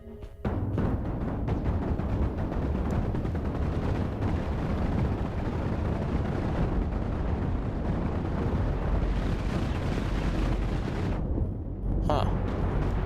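Chain guns firing in the space ship battle game Cosmoteer, a dense, continuous roar of rapid bursts and booms that stays loud for many seconds before a brief lull and a final burst.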